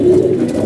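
Pigeons in a covered loft give a single close, loud, low throaty coo that lasts under a second.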